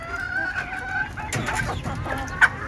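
Native chickens clucking close by in a netted enclosure, several overlapping short calls and squawks over a couple of seconds, with a sharper cluck near the end.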